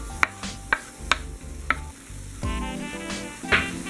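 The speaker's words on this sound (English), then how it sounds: "we're just going to continue to saute this until it gets a little soft and brown" Okra sautéing in a pan for a coconut curry fish stew gives a soft, quiet sizzle broken by sharp clicks and scrapes of stirring, with no talking.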